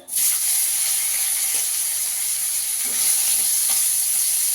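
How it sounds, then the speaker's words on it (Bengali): Bitter gourd fries in oil left from frying fish, giving a steady, close, bright sizzling hiss with a few faint utensil taps underneath. "এই তেলে আমি উচ্ছেটা একটু ভেজে নেব"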